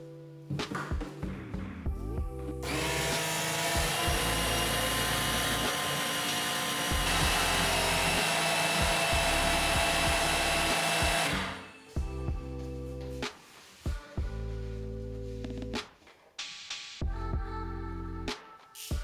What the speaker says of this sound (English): remove the entire oil content using a manual or electric pump